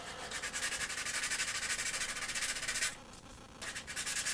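Sandpaper rubbing over a tin can made into an alcohol stove, quick rhythmic back-and-forth scratching strokes, close up. It pauses briefly and then resumes.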